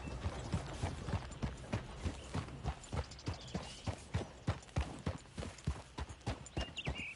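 Horse hooves gallop in Red Dead Redemption 2, a steady, rhythmic run of clip-clop beats with faint tack and mechanical rattles, heard alone without voices.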